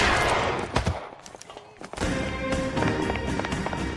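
Gunfire in the video game LA Noire, a burst of loud shots and crackling bursts over game music and effects, dipping briefly before resuming at full intensity.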